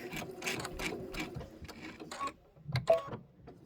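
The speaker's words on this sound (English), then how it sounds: "I'm going to back stitch that a little" A sewing machine back stitches fabric in short bursts, quick mechanical chattering runs broken by brief stops and a couple of louder clunks, close and clear.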